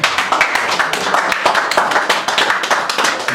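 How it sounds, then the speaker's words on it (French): A room full of people applauding at a birthday party, dense overlapping hand claps at a steady level throughout, fairly close and loud. "J'espérais qu'on applaudisse pour Florent,"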